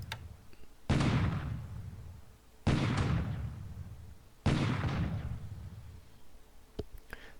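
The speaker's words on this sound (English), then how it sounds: "This is another non-railed airbase being bombarded by my heavy cruisers." Heavy cruisers bombard an airbase in the War in the Pacific game: three loud, booming salvo explosions spaced about two seconds apart, each with a rumbling decay, followed by faint clicks.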